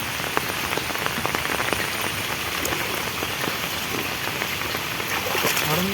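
Rain falls steadily outdoors, with dense pattering drops hitting the ground and water in an even hiss that lasts the whole time. It is close and constant, with no voices.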